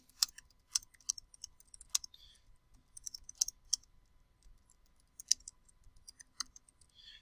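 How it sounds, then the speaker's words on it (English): Keystrokes on a computer keyboard while entering text in Microsoft Word, crisp close clicks in irregular bursts with short pauses, over a near-silent background. "Then I can just begin typing."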